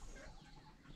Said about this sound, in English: there's a chicken up here laying eggs